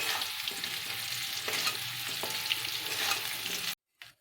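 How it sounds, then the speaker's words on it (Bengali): Bay leaves hit hot mustard oil in a pan with a loud, continuous sizzle and crackle, a few stirring scrapes breaking through, before the sound cuts off abruptly near the end; nobody speaks. "সর্ষের তেল দিয়ে দিয়ে তেজপাতা ছড়িয়ে দিলাম"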